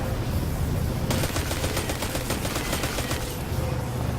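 Rapid automatic gunfire in the Destiny 2 video game, a dense burst of rattling shots lasting about two seconds over a steady loud game background.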